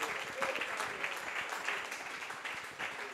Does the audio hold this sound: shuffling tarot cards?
no